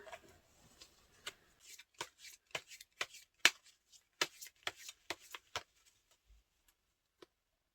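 Tarot cards being shuffled and laid out by hand, a quick run of crisp, close card riffles and snaps that thins out to a few isolated taps with no one talking.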